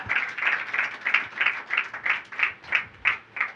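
Congregation at a church service clapping in a steady rhythm, about eleven evenly spaced claps in quick succession, fairly close and clear with no talking over them.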